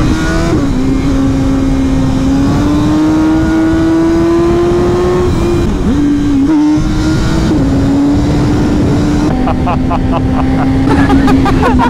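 BMW S1000R motorcycle engine revving and accelerating, a loud, sustained engine note that climbs and wavers in pitch with gear changes, near and continuous, with people talking over it.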